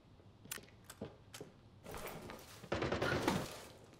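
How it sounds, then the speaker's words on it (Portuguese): Gunshots in the shooter Arena Breakout: Infinite: several sharp, distant-sounding shots early on, then a denser burst of rapid fire, all fairly faint. "Eu tomei tiro aqui."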